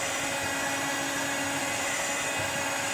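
An electric mixer whirs at a constant, loud, even drone as it beats eggs for a vanilla Taiwanese ogura cake, with no pauses or talk.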